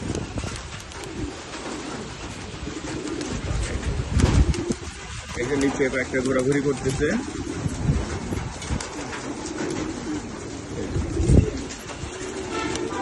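Confined pigeons coo inside a shed, soft repeated calls over a busy background of shuffling and rustling, with a person talking briefly.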